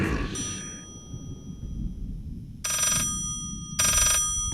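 A telephone rings in two short repeated bursts in the video game Layers of Fear, with a low steady hum and rumble running underneath.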